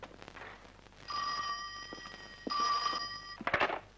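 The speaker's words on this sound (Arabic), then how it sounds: "تليفون علشانك من نيويورك" An old telephone rings in two clear bursts of electric bell trilling, separated by a short gap, with faint rustling and movement around it in a quiet room.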